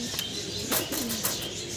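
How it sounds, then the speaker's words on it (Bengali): A young grizzle racing pigeon gives a brief, low, throaty coo close by against a constant background hiss. "একদম ইয়াং কবুতর।"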